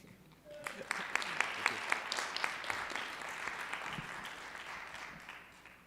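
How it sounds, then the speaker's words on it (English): Audience applause breaks out after a tech talk at a conference session, a dense patter of many clapping hands with some voices mixed in, building and then fading. "So I guess we should clap for Min too."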